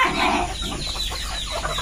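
Chickens being fed outdoors at Freedom Park Los Amigos, loud close clucking and squawking in quick bursts, several birds calling together.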